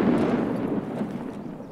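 A grenade detonates in Escape From Tarkov, a heavy low boom with a rumbling tail that fades over under two seconds, heard alone without voices.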